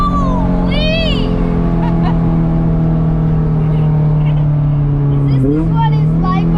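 A Honda CRX with a B17 engine accelerates loudly from inside the cabin, its engine note holding steady and then climbing again, with people talking over it.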